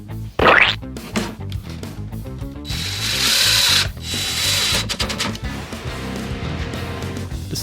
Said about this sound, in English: Mark where the hinges are going, put a couple pilot holes in there, and give it the rivets.